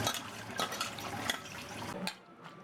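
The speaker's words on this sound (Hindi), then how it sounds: "अच्छे से मसल के वॉश करना है।" Tap water runs and splashes softly as salted bitter gourd (karela) is rinsed and squeezed by hand in a kitchen, a close, continuous gurgle that thins out near the end.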